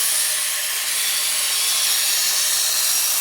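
Work Sharp electric knife sharpener grinding a blade, a steady, loud, hissing abrasive whir held close for a few seconds without talk.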